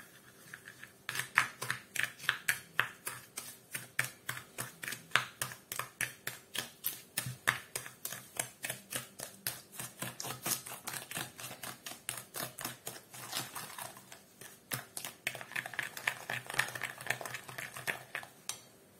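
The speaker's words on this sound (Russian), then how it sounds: "Добавляем 100 грамм сахара и хорошенечко размешиваем" A utensil clicks rapidly and rhythmically against a bowl as one egg and sugar are stirred, a steady stream of sharp taps like vigorous whisking, with no talking.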